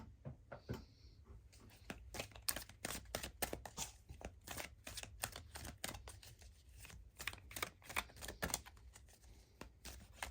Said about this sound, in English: let's get you some cards from the Power Thought cards by Louise Hay.